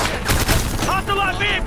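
Rapid bursts of gunfire crackle in the shooter video game Ghost Recon Future Soldier, loud and dense at first, then thinning as shouted squad voices take over.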